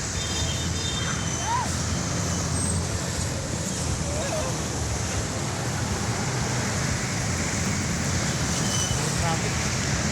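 Steady broadband roar of road traffic at night near a park, continuous and fairly loud, with faint voices and scattered higher tones mixed in.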